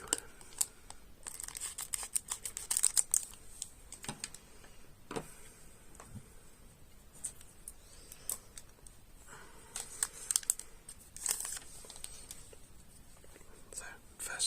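A Magic the Gathering Karlov Manor booster pack being handled and opened, with scattered soft crinkles, ticks and small tearing sounds of foil and cards, close and quiet, under intermittent whispered speech.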